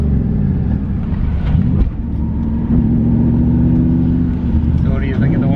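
Toyota Cressida with a swapped 1UZ V8 engine revving while driving, a loud close engine drone rising and falling in pitch with a gear change, with people talking over it.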